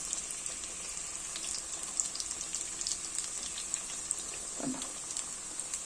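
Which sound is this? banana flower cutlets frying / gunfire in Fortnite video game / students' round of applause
banana flower cutlets frying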